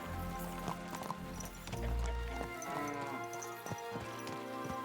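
A horse in the game Kingdom Come: Deliverance II clip-clops along with hooves and lets out a neigh midway, set against a layered in-game soundscape.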